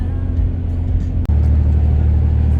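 A Ram 3500 Mega Cab pickup truck drives on a highway beltway in traffic, heard from inside as a steady low engine and road rumble, constant and fairly loud, with a brief dropout in the middle.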